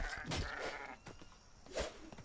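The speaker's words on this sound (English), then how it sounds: "Sheep." Sheep bleat in the survival video game ATLAS, two or three close, wavering calls in quick succession, with no talk.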